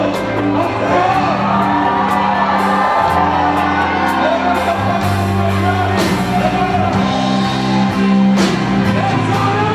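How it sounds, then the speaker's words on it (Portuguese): Church congregation shouting a loud cry for help together, a dense, sustained roar of many voices with whoops and yells throughout, close and full. "No nome de Jesus, dê um grito de socorro ao Senhor."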